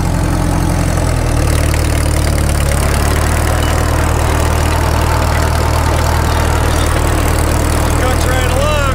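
A Caterpillar D2 bulldozer engine that had sat for 20 years runs loud and steady at close range, a heavy low-pitched knocking drone filling the whole stretch as the machine works in gear.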